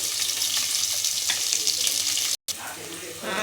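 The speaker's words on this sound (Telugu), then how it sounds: "సన్నగా తరిగి పెట్టుకున్న పచ్చిమిర్చి, దాంట్లోకి ఆనియన్స్ కూడా వేసేసుకోవాలి. కొంచెం గోల్డెన్ బ్రౌన్ కలర్ వచ్చే వరకు వేయించాలి చక్కగా." Green chillies and onions frying in a pan for veg biryani, a steady hiss and sizzle close up, broken by a brief cut of silence.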